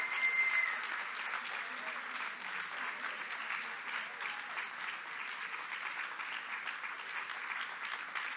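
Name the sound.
audience applause welcoming speaker on stage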